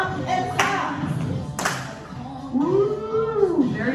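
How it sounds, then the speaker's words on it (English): Line dancers at Quail West clap their hands in two sharp, separate claps about a second apart, loud against dance music, with a voice calling out afterward. "Hop and clap."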